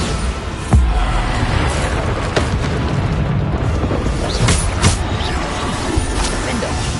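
Bombarda blasting spell explosions in the Hogwarts Legacy video game, with a booming blast near the start and further bursts scattered over continuous loud battle noise.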